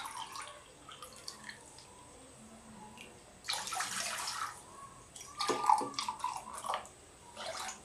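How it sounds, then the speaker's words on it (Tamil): Water poured from a cup into a pan while making semiya kesari (vermicelli sweet) in a home kitchen, heard as a couple of splashy pouring bursts with drips in between, moderately quiet and without talk. "இந்த 1 கப் சேமியாவுக்கு இந்த கப்பால் 2 கப் தண்ணி ஊற்றணும்."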